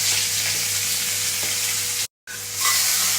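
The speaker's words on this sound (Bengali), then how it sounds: "এই পেঁয়াজটা এই যে একটু মানে ভেজে নিচ্ছি তেলের মধ্যে কাই করে।" Chopped onion and black cumin frying in oil, a steady broadband sizzle throughout with one brief dropout near the middle before the hissing frying resumes.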